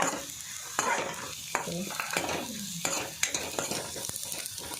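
Onion, garlic and poppy seeds frying in a pan with oil for chicken green masala, a quieter steady sizzle broken by repeated scraping strokes of a spoon stirring.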